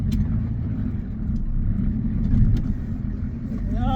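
A Ford F-250 diesel truck idles with a steady low rumble while reversing, its clutch out, the engine note swelling slightly midway.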